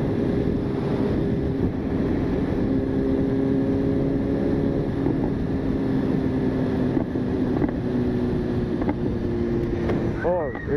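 BMW S1000RR motorcycle ridden on a road, engine holding a steady droning tone with gear and throttle changes, heavy wind rush over the rider's helmet, and a short rising rev at the end.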